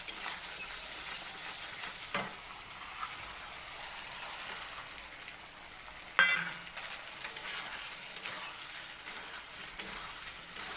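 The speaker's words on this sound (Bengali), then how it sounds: "ডিমটা দিয়ে একটু ভালো করে ভেজে নেবো মশলাটা" An egg fries with spice paste in a pan, giving a continuous soft sizzle with occasional stirring clinks and one louder scrape, no voices present.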